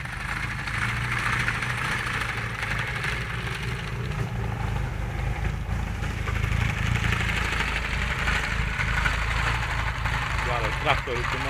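A tractor engine idles and runs steadily behind an ATV on a track, a continuous low mechanical drone with vibration, while a person talks over it.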